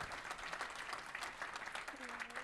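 Audience applause at a business conference, a steady patter of many hands clapping throughout, with a brief voice slipping in near the end.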